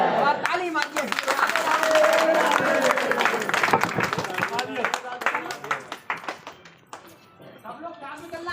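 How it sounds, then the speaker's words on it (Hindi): A crowd of devotees on a pilgrimage to Vrindavan claps for Bihari Lal, scattered and uneven hand claps mixed with loud nearby talk and crowd chatter, thinning toward the end. "बिहारी लाल की और ताली मारिए"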